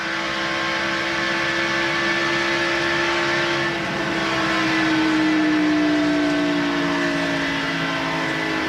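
A NASCAR Winston Cup race car engine drones and revs at the 1989 Miller High Life 400, pitch sliding down and climbing again as it shifts through gears, steady and loud throughout.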